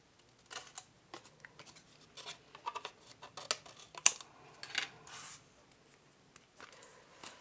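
Scissors snip a small paper tab with a few quiet, scattered cuts and faint rustling, close and soft throughout.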